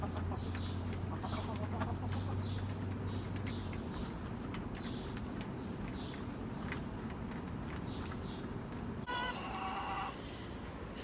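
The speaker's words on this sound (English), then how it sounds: "the chicks are not gonna go back in their cage. The hens are in their coop" Hens and young chicks cluck and chirp in a backyard coop, with repeated soft clucks and peeps over steady outdoor background noise; a low hum fades early and a brief rustling clatter comes near the end.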